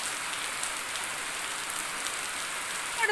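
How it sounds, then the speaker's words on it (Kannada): Steady rain falls in a continuous even patter, moderately loud and close, with no voices; a couple of slightly louder drips come near the end. "ಈಗ ಬರಬೇಕಾ ಮಳೆ"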